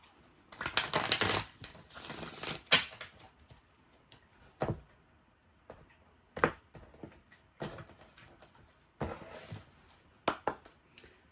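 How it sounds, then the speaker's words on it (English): Tarot cards riffle and slap in quick, crisp bursts, a long shuffle first, then several short ones spaced apart, close and fairly loud. "All right, one more shuffle here."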